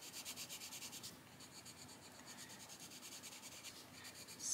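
Coloured pencil shading on paper, a soft, rhythmic scratchy rubbing of repeated back-and-forth strokes, close and faint, with a steady pulsing pattern that fades briefly then resumes, no talk.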